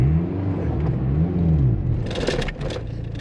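A 1984 VW Scirocco engine strains loudly in second gear, a close droning rumble whose pitch rises and falls, then rough scraping bursts near the end.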